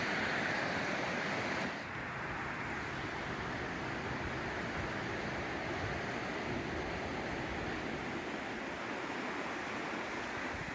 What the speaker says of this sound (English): And the rain just kicked up.